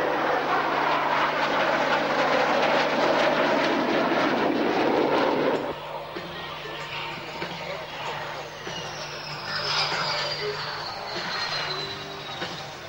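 Aircraft performing at the 1998 Gdynia Babie Doły air show in Poland, giving a loud, close engine roar that cuts off abruptly partway through, leaving a quieter, distant rumble with a whining jet tone that swells and fades.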